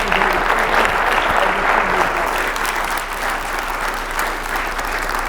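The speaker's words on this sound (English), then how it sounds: "Let's have one more round of applause" An audience applauds a speaker at the close of a talk, a steady, dense wash of clapping from many hands that holds evenly for several seconds without any voices rising above it.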